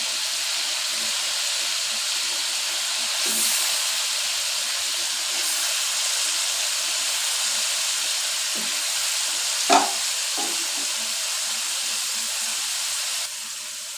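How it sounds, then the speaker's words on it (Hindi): Fish pieces being added to frying masala for a machli salan, giving a steady, close sizzle and hiss throughout with soft stirring knocks, and no voices. "अब हम इसमें मछली ऐड करते हैं।"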